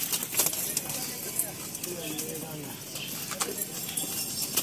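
Pigeons coo in a rooftop loft, soft murmuring calls under a steady wash of outdoor background noise, while people talk nearby.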